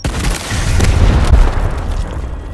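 Frag grenade blast in the game Gears Tactics, a loud booming explosion with deep rumbling low end and a couple of sharp cracks inside it, tailing off into a fading rumble.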